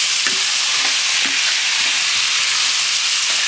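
Meat frying in oil for paella valenciana gives a steady, close, loud sizzle, broken every half second or so by the soft scrape of stirring. No voices are heard.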